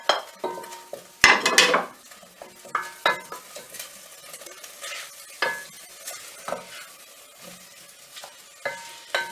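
Apple and spring onion frying in a pan while being stirred with a spoon, soft sizzle under irregular scraping and clinking of the spoon against the pan, close and moderately loud.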